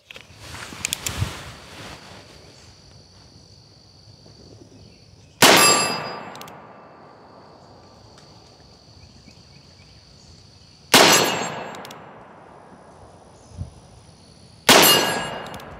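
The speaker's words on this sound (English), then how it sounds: "let's see if the guy ever got 5 shots on steel" Three sharp .45 Colt shots from a Taylors Gunfighter Defender revolver, each followed by a bright ringing clang off a steel target, loud and spaced several seconds apart over a faint hum.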